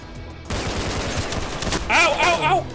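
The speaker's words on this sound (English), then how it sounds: "Where are they shooting that from?" Rapid gunfire in S.T.A.L.K.E.R.: Call of Pripyat starts abruptly and rattles on in a dense automatic burst, close and loud, with a voice speaking over the end.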